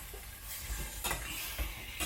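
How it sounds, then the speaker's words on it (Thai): Pork bones stir-fry with curry paste for a Isan-style pork bone curry, a soft close sizzle broken by several scraping stirs of a spatula against the pan. "แล้วผัดกระดูกหมูกับพริกแกงของเรานะคะ ผัดไปเลยค่ะ"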